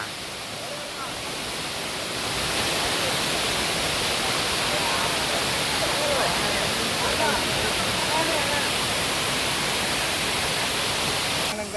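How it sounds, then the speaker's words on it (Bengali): Khoiyachra, a large waterfall in the green hills of Sitakunda, Chittagong, pours with a loud, continuous roar that swells after the first couple of seconds and holds steady throughout. "এত বড় ঝর্ণা"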